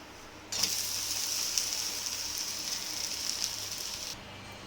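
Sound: ragi and moong dosa sizzling on the pan as it is flipped

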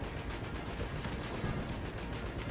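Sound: distant explosions and gunfire in a video game

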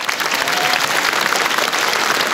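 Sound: comedy club audience applause

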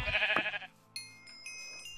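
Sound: sheep bleating in Minecraft video game

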